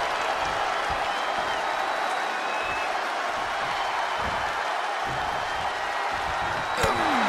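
WWE 2K24 wrestling crowd cheering and applauding in an arena match, a constant dense roar of the audience with scattered thuds from the ring, no voices standing out.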